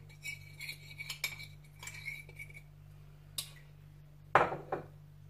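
A spoon clinks and scrapes against a bowl while powdered spices are mixed into egg, a few light taps and stirs followed by one louder clatter near the end.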